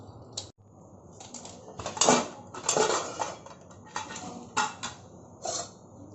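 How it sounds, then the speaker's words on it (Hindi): Metallic clanks and clatter of a pressure cooker lid being fitted and locked into place over cooking goat kidney and liver, close up, with several knocks and scrapes. "अब मैं इसका प्रेशर कुकर का ढक्कन लगाती हूँ"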